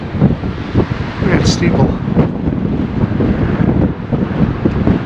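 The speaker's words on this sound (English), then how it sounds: "That wind is brutal." Strong wind roars and buffets a microphone in heavy, rumbling gusts over a small town, with a person speaking briefly over the blustery noise.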